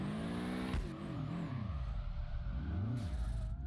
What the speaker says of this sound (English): The engine sounds really good.